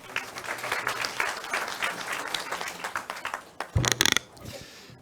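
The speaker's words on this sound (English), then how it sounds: "Please give him a round of applause." Audience at an international conference on the Rohingya crisis applauds a guest from Thailand, a sustained crowd clapping that thins out, followed by a few loud close knocks and rustles.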